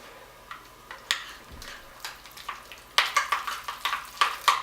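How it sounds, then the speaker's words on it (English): A spoon stirs a hot cheesy bacon dip after a little oil goes in, giving sharp clicking scrapes against the pan in a loose rhythm that speeds up into a quicker run of taps toward the end, with a soft sizzle underneath. "And then mix that up again."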